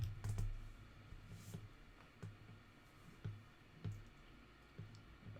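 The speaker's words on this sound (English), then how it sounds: "I need to get my keyboard." A computer keyboard clicks in scattered, irregular taps over a low background hum, close and soft, with no speech.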